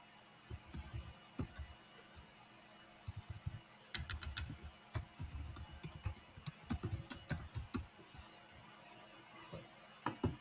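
Bursts of typing on a computer keyboard while filling in a WordPress installation form, key clicks coming in irregular clusters with short pauses, close and clear with no talking.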